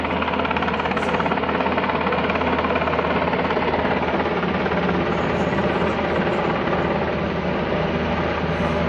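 A steady, loud aircraft engine drone, strongly helicopter-like, runs unbroken throughout with a constant low rumble and no speech.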